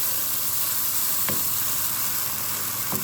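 Green chili peppers and herb leaves frying in oil for a chicken curry give a steady, close sizzle throughout, broken twice by brief knocks of stirring, with no talking.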